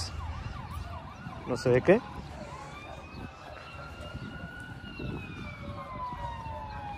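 Emergency vehicle sirens wail faintly in the distance over a municipal cemetery in Tijuana, their long rising and falling tones drifting above quiet outdoor ambience, with a brief spoken fragment near the start.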